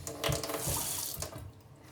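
Hot water runs steadily from a tap, a close, continuous splashing rush that lasts about two seconds with no voices over it.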